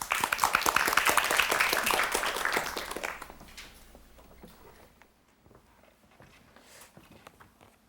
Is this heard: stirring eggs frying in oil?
no